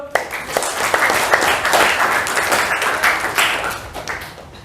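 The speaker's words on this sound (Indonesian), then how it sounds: "tepuk tangan dulu" A classroom of students claps together, a lively burst of many hands with some sharper individual claps standing out, steady and close for several seconds.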